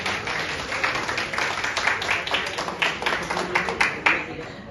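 Dense audience applause fills a hotel ballroom at an Indonesian Tianxia Taiji Quan association event in Balikpapan, a thick continuous patter of many hands clapping with scattered sharper claps standing out.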